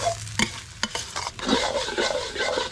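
Eggs stir-fry in a hot wok with just a film of oil, sizzling steadily while a utensil scrapes and clatters against the pan in uneven strokes, close by.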